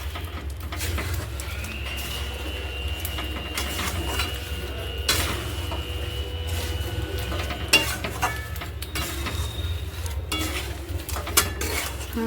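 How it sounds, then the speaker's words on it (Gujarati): A spoon stirs sukhadi mixture with added ghee in a pan, making soft scrapes and occasional metal clinks close by over a low steady hum. "પાછું મિક્સ કરું છું હું।"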